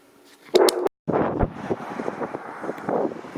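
Gusty, snowy wind buffets the microphone, a loud rush that briefly cuts out, then returns as steady roaring noise.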